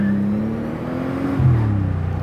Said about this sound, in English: All right, here we go, wide open throttle.